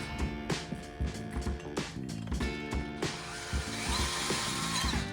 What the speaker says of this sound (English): next I'm going to hit each one of them with a step drill